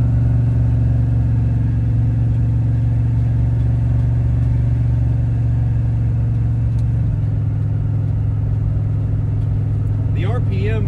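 A turbocharged V8 police car cruising at steady speed, its engine giving a constant low drone that drops slightly in pitch partway through, with a brief higher whine near the end.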